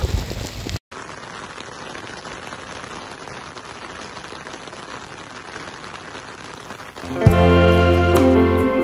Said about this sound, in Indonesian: Lihat guys, hujan turun.